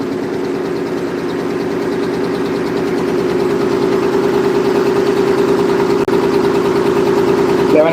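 A test-rig engine in a lab runs at a steady speed of about 1000 RPM, giving a loud continuous drone with an even low throb and no change in pace. There is a single faint click near the end.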